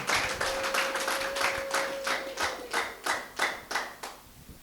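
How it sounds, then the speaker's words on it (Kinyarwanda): Church congregation clapping hands together in a rhythmic burst of sharp, evenly spaced claps that gradually slow and fade, heard in a reverberant hall without talk. "Dukomere Imana amashyi kubw'ijambo ryayo"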